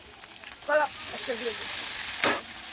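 Spice paste and green chili fry in a pan for a banana-stem dish, giving a steady close sizzle for nearly three seconds, with a brief swell near the start and another near the end, plus a short faint vocal sound.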